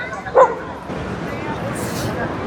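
A single sharp dog bark rings out amid busy crowd chatter and other dogs on a beach, with continuous background babble and distant activity.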